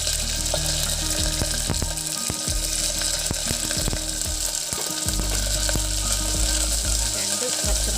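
Garlic, ginger and slit green chilies sauté in hot oil, a loud close sizzle broken by repeated scraping stirs and clatter of the spoon against the pan.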